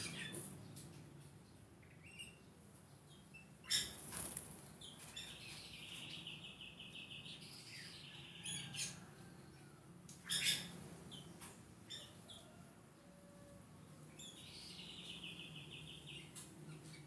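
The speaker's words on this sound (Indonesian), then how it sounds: "menikmati suasana kandang burung aviary" Birds kept in an aviary cage give scattered squawks, chirps and whistled calls over a quiet background, with a couple of sharper, louder cries standing out among fainter tweets.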